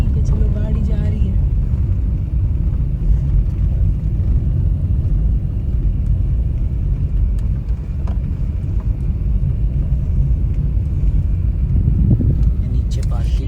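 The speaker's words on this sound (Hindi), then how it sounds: "चलो गाड़ी जा रही है।" A car drives away in Kanatal, Uttarakhand, producing a steady low engine and road rumble that runs continuously throughout, with people talking over it.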